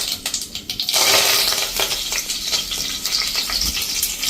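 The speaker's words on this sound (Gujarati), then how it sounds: "અને હવે આમાં આપણે લીમડાના પત્તા નાખી દઈશું." Curry leaves hit hot oil in a tempering of whole spices, letting out a sharp burst of crackling sizzle that settles into a steady fry nearby, with no talk.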